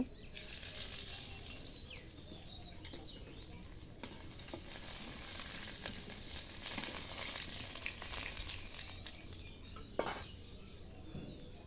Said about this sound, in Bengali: এই যে শুকনা মরিচ আর তেজপাতা দিয়ে দিলাম